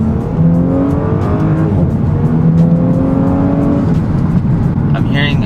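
An Audi S4 with a carbon intake, turbo inlet and strut brace pulls out in sport mode with a loud, steady engine drone and rising whine, heard from inside the cabin as a voice talks over it.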